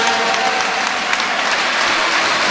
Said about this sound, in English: And good applause from their fans, both sets of fans